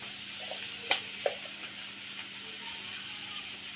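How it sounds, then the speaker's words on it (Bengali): Vegetables fry in a pan while Maggi noodles are prepared, a steady close sizzle with a few light scrapes and stirring taps near the start, and no voices. "এখন আমি সবজিটাকে 2-3 মিনিট একটু ফ্রাই করে নিব।"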